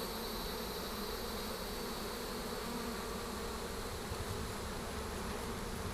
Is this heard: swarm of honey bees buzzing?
yes